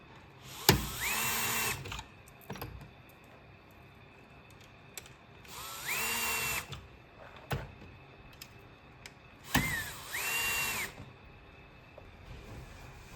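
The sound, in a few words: power tool tightening bolts during diffuser replacement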